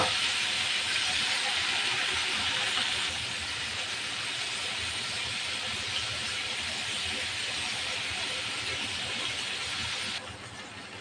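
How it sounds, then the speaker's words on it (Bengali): Hilsa fish frying in hot mustard oil gives a loud, steady, close sizzling hiss that runs without a break, easing slightly a few seconds in and again near the end. "ইলিশ মাছ ভাজার জন্য দিয়ে দেবো সরিষার তেল।"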